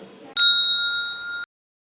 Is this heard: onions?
no